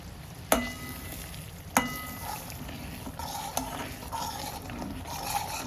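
Masala sautéed in oil in a pot until the oil separates, for a mutton curry: a steady soft sizzle with two sharp spoon clanks against the pan early on and lighter scraping stirs after, with no talking.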